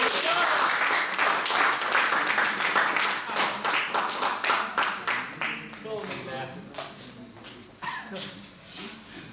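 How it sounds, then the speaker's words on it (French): An audience applauds a slam poet: lively clapping starts loud, then thins and fades as a voice begins speaking over the last scattered claps. "Je vais l'applaudir à nouveau s'il vous plaît."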